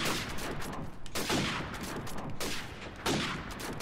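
Gunfire in the video game Call of Duty 4, a few bursts of shots with short gaps between them, muffled and fairly quiet, with no talking.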